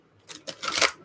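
Tarot cards are shuffled in a few quick rustling, flapping bursts that build toward the end, close and fairly quiet, with no voices.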